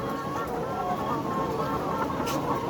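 Layer hens on a poultry farm cluck softly amid a steady, dense background hum, with occasional faint squawks rising above the noise.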